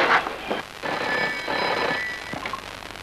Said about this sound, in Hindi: लो आ गया मेरे भाईजान का फोन